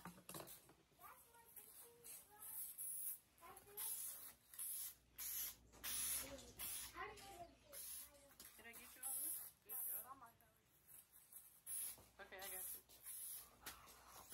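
Off insect repellent sprayed from an aerosol can outdoors in rural East Texas, giving repeated short hissing bursts in an irregular rhythm, close and fairly loud, with people talking throughout.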